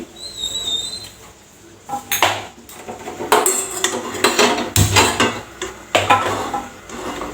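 A kadai pan set down on a kitchen stove, with several loud metallic clanks and scrapes of cookware in quick irregular bursts, close by and with no talk.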